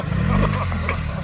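A BMW police motorcycle rumbles low and close during a slow riding demonstration at a rally, its engine note rising and falling briefly with light clatter.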